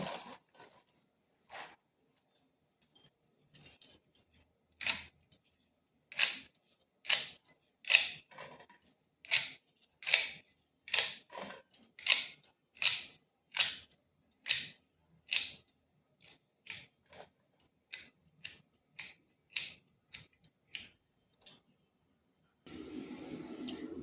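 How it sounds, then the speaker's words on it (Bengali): Spring onion stalks are sliced with a knife, a long run of crisp, evenly spaced chopping cuts, close and distinct, followed by a brief burst of other kitchen noise at the end. "এরপর পেঁয়াজ কলিগুলো কেটে নেব"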